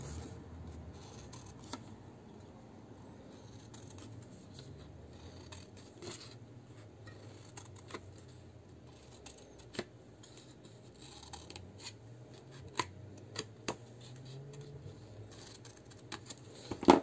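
Paper is creased and folded by hand while crafting a Christmas candle holder, giving faint, close rustles and scattered small taps and scrapes in a quiet room with no voices.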